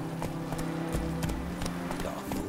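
Horse hooves clop in a steady rhythm as a horse moves in The Witcher 3, close and even under a constant low game hum.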